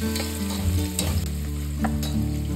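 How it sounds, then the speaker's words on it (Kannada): Sliced onions roast and sizzle in hot oil in a pan for restaurant-style mutton biryani, a steady close frying hiss broken by a few louder stirring scrapes, with no talking. "ಇವಾಗ ಈರುಳ್ಳಿ ಹಾಕೊಳ್ಳೋಣ. ಈರುಳ್ಳಿ ಕಲರ್ ಚೇಂಜ್ ಆಗೋ ತನಕ ರೋಸ್ಟ್ ಮಾಡ್ಕೋಬೇಕು."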